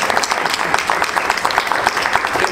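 At an award ceremony, an audience breaks into sustained applause, loud and close, a dense even patter of many hands clapping.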